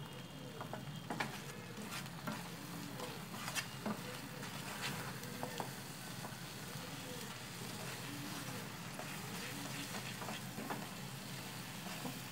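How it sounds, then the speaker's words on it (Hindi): Kachri chutney simmering in a pan over a low flame gives a steady, soft sizzle and bubbling pop that carries on evenly throughout, with occasional faint stirring clicks close by. "थोड़ी देर पकने देंगे धीमी आंच पे।"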